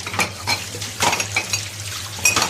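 Glasses and dishes are washed by hand in a kitchen sink, with repeated close clinks and knocks of glass and crockery and light splashes of water, with no speech.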